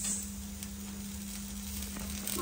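Finely chopped onion sizzles steadily in hot oil in a home kitchen pan, a continuous close frying hiss with no voices over it.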